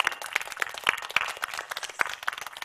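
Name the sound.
audience applause for the teachers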